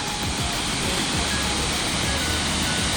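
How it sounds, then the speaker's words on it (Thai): Si Dit waterfall in a Thai national park in Phitsanulok, heard as a steady, loud broadband rush of falling water that fills the whole moment without pause. "ที่นี่น้ำตกสีดิดนะคะ"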